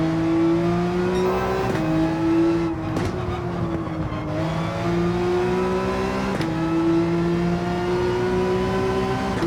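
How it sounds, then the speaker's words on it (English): A Gran Turismo 7 race car engine accelerates hard, a loud sustained roar climbing in pitch, breaking at several sharp gear shifts before rising again, with no voices over it. "Bury the pedal down this section."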